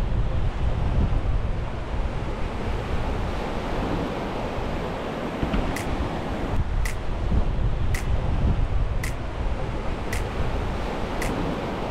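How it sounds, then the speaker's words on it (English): Steady ocean surf and a strong sea breeze wash over the beach at an adults-only resort on Cayo Cruz, Cuba, a continuous loud roar of waves and wind buffeting the microphone, with faint regular clicks and no talking. "there's a great breeze coming right off the ocean"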